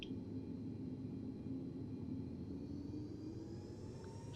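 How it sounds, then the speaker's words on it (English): A Boeing 747 Classic's engines roar steadily during takeoff in the X-Plane 12 flight simulator, a continuous broad rumble with a faint rising whine, heard alone without talk. "Runway 27, clear for takeoff."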